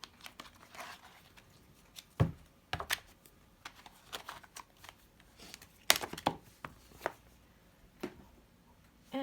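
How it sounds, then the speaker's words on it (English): Oracle card decks shuffled by hand in a quiet room, with crisp riffles and soft card slaps in irregular bursts and gaps between them. "these ones I'm going to shuffle in each deck because I want all of the cards to be available for both piles"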